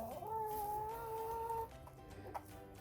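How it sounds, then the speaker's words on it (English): Molting backyard chickens eating bread cluck softly nearby, one drawn-out call followed by a few short clucks over a low background hum. "You can see that the chickens are having some bread"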